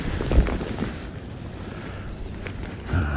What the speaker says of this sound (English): That wind's just a bit stronger than it was.